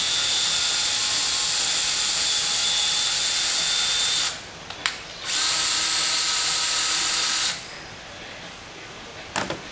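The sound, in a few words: tapping a thread into PVC pipe with a combination drill-tap-deburr tool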